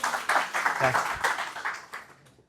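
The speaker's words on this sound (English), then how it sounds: "Let's give her a round of applause." An audience in a lecture room claps for Kylie, a short burst of applause that fades out within a couple of seconds, with voices mixed in.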